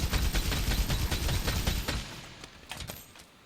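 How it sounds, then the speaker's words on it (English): Heavy gunfire from a bowgun in the video game Monster Hunter World rattles off as a dense, rapid barrage that fades into a few scattered shots. "You just start blasting your enemies with a barrage of heavy gunfire."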